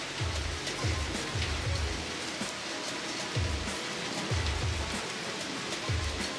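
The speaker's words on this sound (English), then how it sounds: "It's absolutely raining." Heavy rain falls outside in a steady, dense hiss, with a soft low rumble underneath and no speech.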